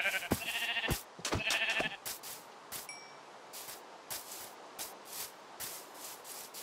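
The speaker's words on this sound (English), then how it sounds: "There's a sheep." Sheep in Minecraft Bedrock give two short, nasal bleats early on, followed by soft repeated rustling or stepping sounds at a steady pace.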